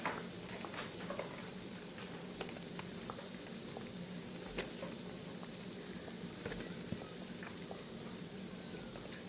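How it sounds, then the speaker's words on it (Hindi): Carrots go into thick boiling sugar syrup for murabba, a soft bubbling and crackling simmer with scattered small pops and spatters, fairly quiet and steady, with no voices. "अब इसमें हम गाजर डाल देंगे।"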